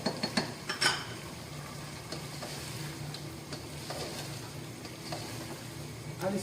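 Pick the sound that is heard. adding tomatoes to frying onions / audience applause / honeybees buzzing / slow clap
adding tomatoes to frying onions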